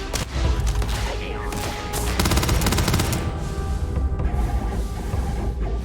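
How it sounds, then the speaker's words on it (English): Gunfire in the video game Starfield, a dense sustained barrage of rapid shots and bursts with thuds underneath, loud and continuous for several seconds. "judging by the gunfire sound"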